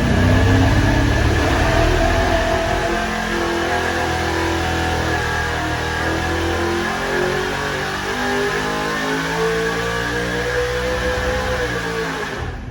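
A car engine on a dyno revs hard through a pull after a trigger-wire change, its rising and falling pitch loud and continuous for the full stretch, with no one talking.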